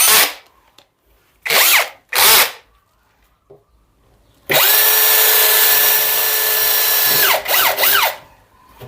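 A power drill bores holes while bathroom fixtures are installed: several short loud revving bursts, then one long sustained high whine lasting a few seconds before it stops and gives two final quick bursts.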